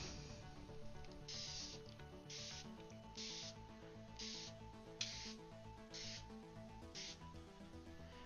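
A spray bottle gives a series of short, evenly spaced spritzes, faint and close, each a brief hiss with quiet pauses between, over a low background hum.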